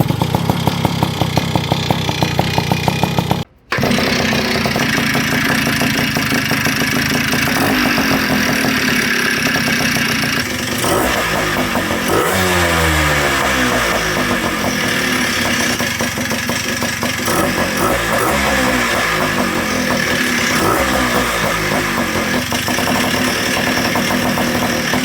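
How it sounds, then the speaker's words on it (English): A freshly built Tomos A55 moped with a 70cc kit engine runs loudly and close for a long stretch, with a steady buzzing idle, rhythmic ring chatter and a brief cut-out before revving continues. "it's just the typical ring chatter that you get from these 70cc kits"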